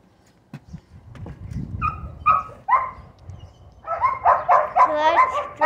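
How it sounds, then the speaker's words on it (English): Several pet dogs at home bark and yip in short bursts, growing louder and more frequent toward the end, with a few whimpers mixed in. "I'm gonna show you the rest of our dogs"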